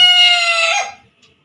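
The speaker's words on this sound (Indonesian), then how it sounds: "Dia sebelum turun dia akan terus berkokok ya" A rooster crows once from its roost, a loud, close, harmonic call that holds steady before falling away into quiet at the end.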